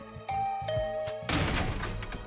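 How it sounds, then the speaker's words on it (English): A doorbell in a visual novel game chimes with two or three clear tonal dings, followed by a louder clattering burst as a door is thrown open. "I rang the doorbell and waited."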